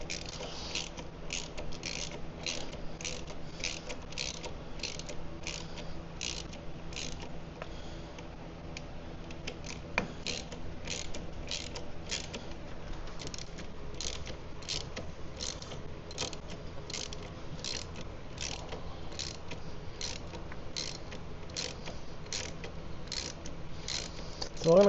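Hand ratchet tightening motor mount bolts on a Mini Cooper F56 engine, a fast even run of close, faint clicks repeating steadily with a brief pause partway through.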